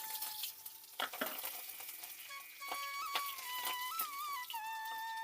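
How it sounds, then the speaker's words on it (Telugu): Mustard seeds, cumin, a dried red chili and curry leaves crackle and sizzle in hot oil for a beetroot coconut fry, with sharp pops and spitting bursts over a steady hiss, close and fairly quiet. "ఆయిల్ వేడెక్కిందండి. కొద్దిగా ఆవాలు వేస్తున్నా, కొద్దిగా జీలకర్ర వేస్తున్నానండి, ఒక ఎండుమిరపకాయ వేసాను, కొద్దిగా కరివేపాకు వేసానండి."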